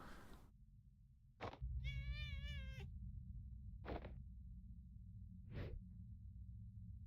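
A cat cries in a video game with one drawn-out, wavering meow, alone and close, followed by several soft breathy puffs.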